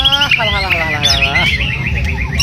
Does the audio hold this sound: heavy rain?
no